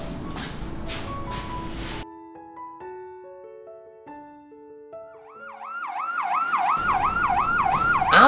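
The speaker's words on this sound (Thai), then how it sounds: "รถพยาบาลมารับใครเนี่ย" An ambulance siren wails on a street lined with food stalls, starting as slow two-tone steps and then turning into a rapid rising-and-falling yelp that grows louder as the vehicle draws near. Other street noise sounds at the start.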